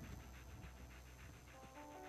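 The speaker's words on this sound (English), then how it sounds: "Got my dog." The companion dog in the Fallout 4 video game pants in quick, rhythmic breaths, quiet and close, with a steady game-world hum beneath.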